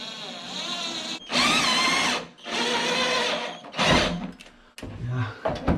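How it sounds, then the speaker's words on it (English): A power drill whirs in four loud bursts of about a second each while driving screws into a mount for a pure sine wave solar inverter, with short pauses between runs and faint handling noise. "So we want to get some other screws in it"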